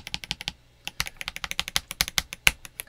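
Typing on a Leobog Graywood mechanical keyboard fitted with MintCaps YQ84 keycaps gives a quick, close run of crisp clacky keystrokes, with a short pause near the start and then steady rapid taps, with no voices.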